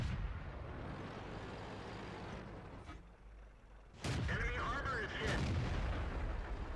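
An Excelsior tank's gun firing in World of Tanks, one sharp booming shot that cuts through a low engine rumble and rings on with debris and metallic echoes, a voice talking alongside.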